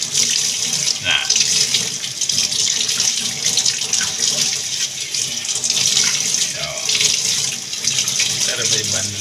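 Tap water runs steadily into a sink while microphone foam is rinsed under it, a continuous close splashing stream that goes on throughout with soft background voices.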